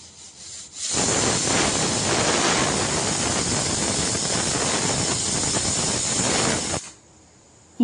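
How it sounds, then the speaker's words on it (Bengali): Chickpeas, soaked overnight, boiling in a pot for ghugni on a home stove: a steady, loud broadband hiss of steam rushes for about six seconds, then cuts off abruptly, leaving quiet. "আমি বুট সিদ্ধ করে নিচ্ছি ঘুগনি বানাবো বলে।"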